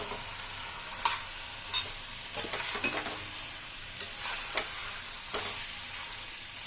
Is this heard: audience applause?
no